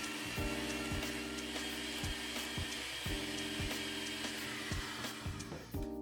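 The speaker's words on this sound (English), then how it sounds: "using a hand or stand mixer fitted with the whisk attachment, beat the butter on medium-high speed for about 5 minutes" A stand or hand mixer with the whisk attachment beats butter at medium-high speed, giving a steady, loud motor whine with rhythmic knocks as the whisk strikes the bowl, continuous and without voices.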